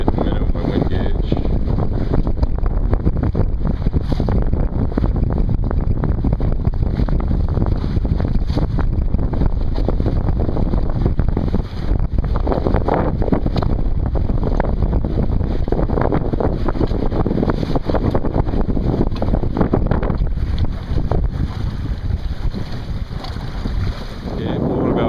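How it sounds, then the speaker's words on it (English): Wind of about 10 to 14 knots roars steadily and loudly across the microphone aboard a Montgomery 15 sailboat running downwind on Tomales Bay, with water rushing in the background and no speech. "blowing about 10 to 14 knots right now, but we're going downwind, so it's a little hard to tell"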